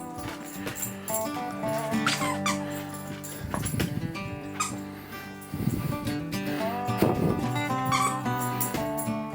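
A dog squeaks a squeaky toy in repeated bursts of high squeals, with chewing and shuffling between them, close and fairly loud.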